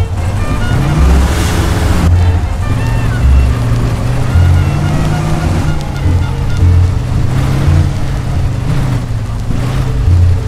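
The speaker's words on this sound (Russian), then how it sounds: "Ну а мы сейчас послушаем, как звучит двигатель нашего грузовика большого." Engine of a Kenworth 524 tanker truck in the video game Mafia II, a steady low diesel drone with a rumbling, pulsing texture that holds loud and continuous without a break.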